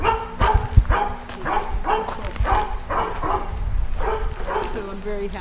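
Puppies bark at a kennel with a puppy yard and front garden, giving repeated yips and barks in an irregular rhythm. They sound close. Someone talks steadily over them.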